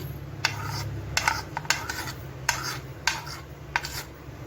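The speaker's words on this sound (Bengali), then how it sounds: "এবারে আমি কিছু মশলা গোটা মশলা আমি একটুখানি থেতো করে নেব প্রথমে নেব মৌরি" Whole spices, starting with fennel seeds, being lightly crushed: a run of short scraping, grinding strokes in an uneven rhythm, close and moderately loud, with no talking.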